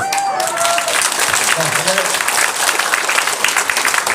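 Audience applause at a press conference announcing a run for Incheon mayor, a dense burst of clapping filling the room and continuing steadily throughout, close and loud, with some voices mixed in.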